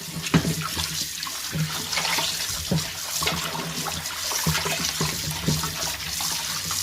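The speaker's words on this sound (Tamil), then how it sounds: "இதோட இதான் லாஸ்ட்டு அலசு இதோட அலசி எடுத்து வச்சிடணும்" Fish being rinsed in water in a vessel by hand, with steady splashing, sloshing and small rhythmic knocks, close and continuous.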